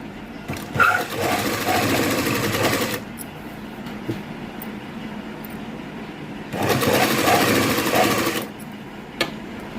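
Sewing machine stitching a blouse piece cut from saree cloth, in two loud steady bursts of rapid mechanical whirring separated by a quieter pause, with small clicks between runs.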